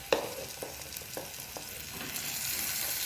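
Black pepper powder is stirred into a sizzling pan, with a spoon scraping and tapping in several quick strokes over a steady, close frying hiss.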